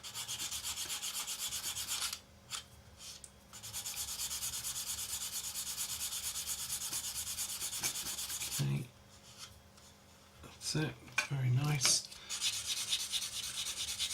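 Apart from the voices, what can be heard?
sanding a plastic model with sanding sponge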